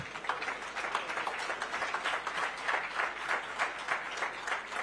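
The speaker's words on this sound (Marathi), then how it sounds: "जोरदार टाळ्या होऊन जाऊ दे." Audience applause at a prize distribution ceremony welcoming Chief Minister Devendra Fadnavis, a steady, dense wash of many hands clapping that holds loud and even throughout, with no voices over it.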